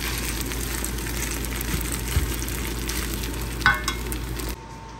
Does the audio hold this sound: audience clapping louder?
no